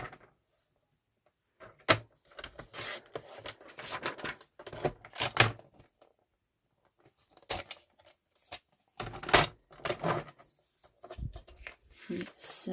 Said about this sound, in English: So I'm just going to cut the borders off.